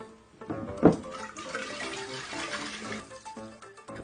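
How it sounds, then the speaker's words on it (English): Oil is poured into water for a soap demonstration, a close liquid pour with a burst of splashing at the start followed by continued gurgling and trickling. "What happens when you pour oil into water?"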